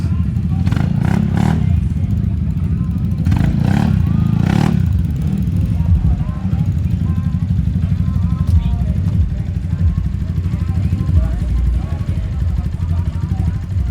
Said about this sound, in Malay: ni motor Hafiz